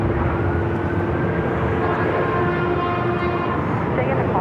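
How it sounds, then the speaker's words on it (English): An Airbus A380 taxis at Los Angeles airport, its steady engine roar loud and continuous, with faint tonal whine riding over the broad rumble throughout. "A380 Super making its way up here to the north side"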